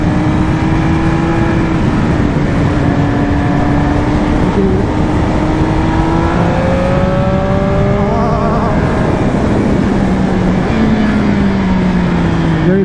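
A 2020 Triumph Speed Triple RS engine revs up toward the top of its range, rising pitch climbing repeatedly through gears with brief shifts, loud and close under rushing wind.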